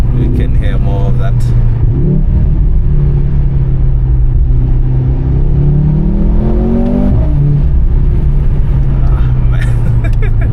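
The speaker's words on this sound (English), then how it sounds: "That exhaust just sounds so crazy." Mercedes-AMG C43 exhaust roaring loud and close as the car accelerates, a steady low growl rising and falling in pitch through gear changes, heard from inside the cabin with a window partly lowered.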